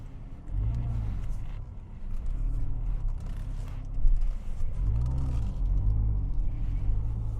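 A 2006 Porsche Boxster roadster idles and rolls in reverse gear, a low steady engine rumble with gentle swells as the clutch takes up, heard from inside the car without talk.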